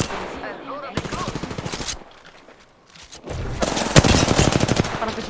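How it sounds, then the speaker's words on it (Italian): Rapid automatic gunfire from an Apex Legends match rattles in loud bursts, pausing briefly in the middle before a second heavy volley with a sharp shot near the end. "I nemici mi stanno sparando."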